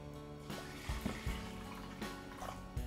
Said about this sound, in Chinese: 加入泡好的大米以及适量的清水